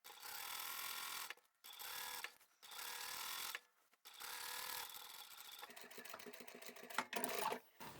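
A sewing machine runs in several fast bursts separated by short pauses while stitching the side seams of a fabric shopping bag with a quarter-inch seam allowance, close and clear, then lighter mechanical handling noises.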